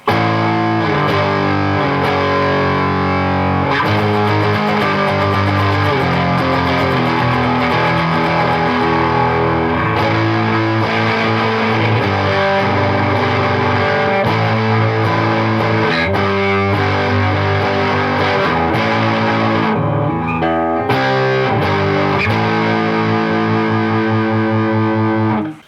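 A Chapman ML3 Pro Triton electric guitar plays with plain distortion through a Behringer HM300 pedal, loud thick chords and riffs continuing for the whole stretch without talking.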